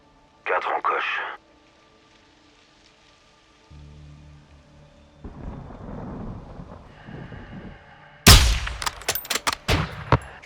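Gunfire in the Call of Duty Modern Warfare II campaign comes as a sharp, loud burst of shots near the end, after quieter game ambience and a short voice line.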